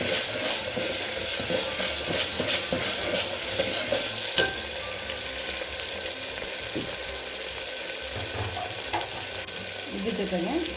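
Tomato and spices for vegetable sambar frying in a pan, with a steady loud sizzle and occasional stirring scrapes running through the whole stretch.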